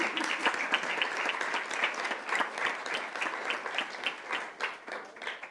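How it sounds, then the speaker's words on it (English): Sustained applause from a school board meeting audience honouring a staff member, dense steady clapping from many hands lasting throughout with no talk over it. "Would you stand so we can give you a round of applause?"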